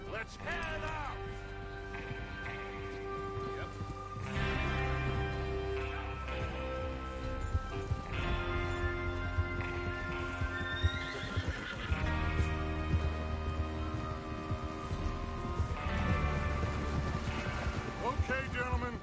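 Horses whinny and hooves clop amid a busy Red Dead Redemption 2 game soundscape with music and voices talking throughout.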